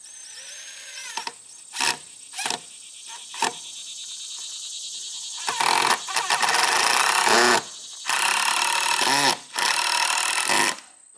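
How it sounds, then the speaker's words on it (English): A power drill drives screws into L-shaped 2x6 boards outdoors, several loud whirring bursts of varying length separated by short pauses, close and alone without talk. "So I'm going to screw this in, and by doing this we're going to be screwing in from two different directions."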